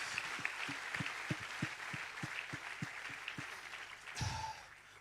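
A church congregation claps for Jesus at a Christmas service, a run of about a dozen sharp, evenly spaced claps, moderately close, ending in a brief louder burst.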